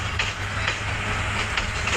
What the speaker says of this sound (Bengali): যেহেতু ট্রেনটা যাইতেছে, আপনারাও দেখতে থাকেন